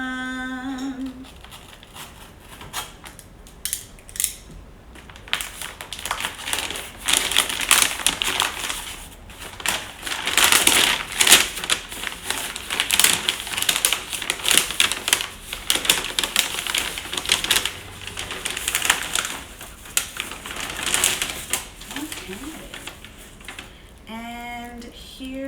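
Crinkling and tearing of taped packaging as a rare plant delivery is unwrapped, a dense, busy rustle close by that swells louder through the middle, with a brief quieter stretch near the start and no talking.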